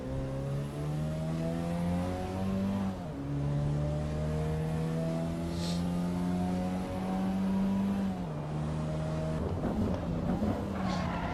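A race car in Assetto Corsa EVO drones along with a steady, loud engine note that climbs through the revs, dips at gear changes, then rises again, heard close from the cockpit.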